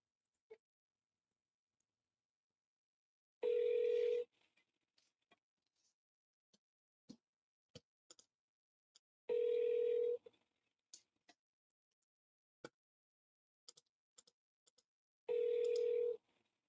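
Telephone call going out: three evenly spaced long ringback tones, about six seconds apart, each a steady buzzing burst, with faint clicks and small noises between them and no talking.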